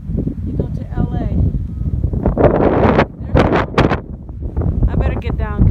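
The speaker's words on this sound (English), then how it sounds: "I better get down because it's pretty windy." Strong wind buffets the microphone on a mountain lookout above the old mining town of Searchlight, Nevada, a steady roaring rumble with gusts, mixed with a person talking throughout.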